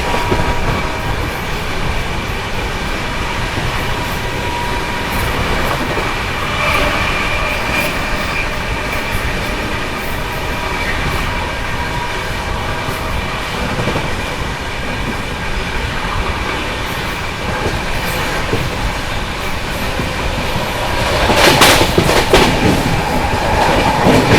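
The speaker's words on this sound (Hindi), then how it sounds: "थोड़ी देर में हम लोग स्किप करेंगे दनकौर रेलवे स्टेशन, तो उसका स्किप आप लोग दिखाते हैं बढ़िया रफ्तार में करेंगे" Shiv Ganga Superfast Express rolling at speed through Dankaur station, heard from on board: continuous rumbling wheel and rail noise with rhythmic clatter, growing louder with a sharp burst near the end.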